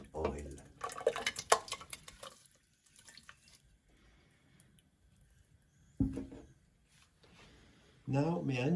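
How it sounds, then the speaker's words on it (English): Herbs and oil are poured into a pot, giving a few short bursts of liquid splashing and clattering separated by quiet stretches, with soft handling noises between. "We will pour everything into the pot."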